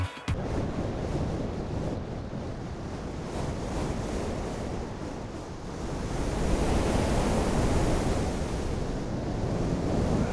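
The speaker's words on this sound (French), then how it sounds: "je suis en train de filmer la mer, on voit le vent qui souffle sur l'eau" Sea waves rolling under wind blowing across the water, filmed by a drone: a dense, continuous roar of surf and wind buffeting that grows louder about halfway through, with no voices.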